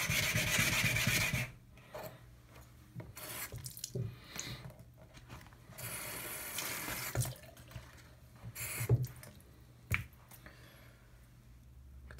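Water runs from a tap while a polished abalone shell is rinsed and rubbed, giving a brief steady splash followed by scattered rubbing, scraping and dripping sounds, close and fairly quiet.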